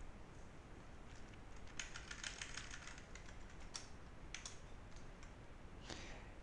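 Fast, light clicking of keys on a computer keyboard, typed in short bursts with brief pauses, faint and close against a quiet background hiss.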